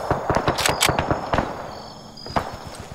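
Gunfire from a trooper in the Arma 3 military video game, a rapid burst of sharp shots in the first second followed by a sparser few cracks, fairly close and alone without talk.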